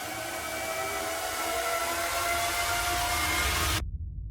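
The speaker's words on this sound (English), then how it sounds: "Lastly, we have a crazy rise coming in." A dense, roaring riser effect in an FL Studio beat, in dark Dark Knight movie style, swells steadily like rushing noise for several seconds and then cuts off abruptly, leaving a faint low tail.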